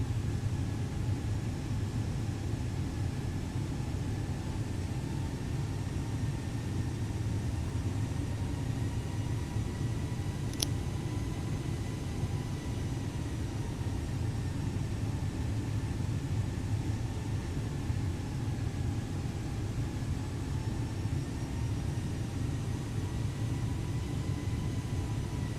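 An Airbus A320neo jet climbing out in Microsoft Flight Simulator, a steady unbroken engine drone and low rumble holding at constant level throughout, with no voices.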